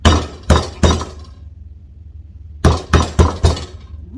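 Several sharp, loud thuds struck close up, three in quick succession, a pause, then four more, as a chicken breast is hammered flat.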